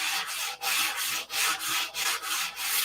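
Lost foam model aircraft wings are sanded by hand in close, rhythmic back-and-forth strokes, about nine evenly spaced rasping passes with brief gaps between them.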